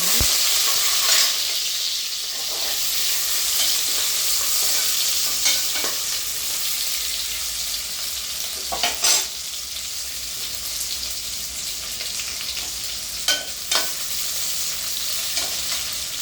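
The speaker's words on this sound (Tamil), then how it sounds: "அப்படியே 1 by 1 ஆனியன், க்ரீன் சில்லி எல்லாம் ஃப்ரை பண்ணிடலாம்." Onion and green chili being stirred and fried in oil for a South Indian vegetable brinji rice, with a steady sizzle and occasional louder scrapes of the spoon against the pan, no voices.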